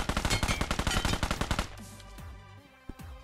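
Rapid burst of shotgun-style gunfire from the PUBG Mobile game, loud and close, a dozen quick shots in a steady rhythm that stops abruptly, leaving a fading tail and one faint later shot.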